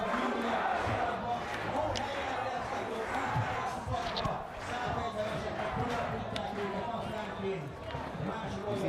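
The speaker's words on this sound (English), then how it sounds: "And you can hear the crowds again shouting," A large crowd at an international sports event shouts and chants steadily and loudly throughout, with a commentator talking over it.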